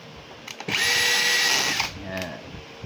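An impact wrench runs in one loud, steady burst of about a second, with a whirring, rattling hammering tone. Fainter mechanical clicks come just before and after it.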